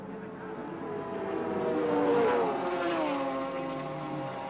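Touring cars at the 1983 Australian Touring Car Championship round at Adelaide International Raceway sweep past, engines rising to a loud peak midway then fading with a falling pitch as the pack passes.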